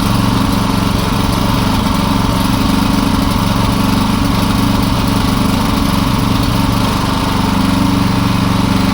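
A Champion 3.6 kW hybrid generator's small engine runs steadily, a loud, close, continuous buzzing drone with an even mechanical rattle throughout and no talking.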